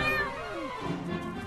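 A cat meows once in the LEGO Juniors Quest game, a short, drawn-out call rising and falling, close and clear over a steady background.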